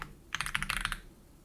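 A quick burst of typing on a computer keyboard, about a dozen crisp, close keystrokes packed into under a second, then quiet.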